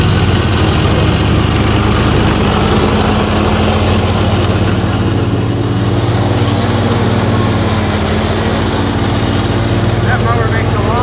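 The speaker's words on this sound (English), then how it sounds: "That mower makes a lot of noise." A lawn mower engine runs loud and close, a steady droning hum with constant vibration and no letup, with some faint talk beneath it.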